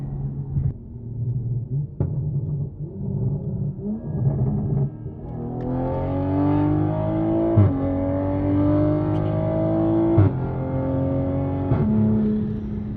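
An A90 Supra with a catless VRSF downpipe accelerates hard through the gears, the engine rising from a low rumble to a loud, rasping pull with sharp breaks at each shift, heard from inside the car.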